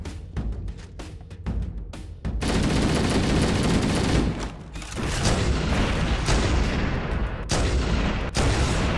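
Gunfire in Halo: Combat Evolved: a string of sharp separate shots gives way to long sustained bursts of heavy automatic fire with booming impacts, broken by brief pauses, loud and close throughout.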